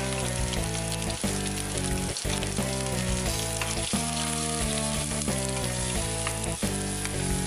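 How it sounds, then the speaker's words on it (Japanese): Schau Essen sausages and onions fry over medium heat in olive oil in a pan, a steady sizzle running throughout with no talking. "フライパンにオリーブオイルを入れ、塩コショウしたシャーエッセンと玉ねぎを中火で炒めます。"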